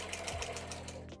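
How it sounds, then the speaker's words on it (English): A sewing machine stitches a tote bag lining, a quiet, fast, even run of mechanical clicks that stops abruptly after about a second. "So I tend to just machine stitch mine."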